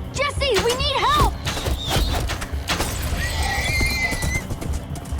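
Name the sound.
horses neighing in video game Minecraft Story Mode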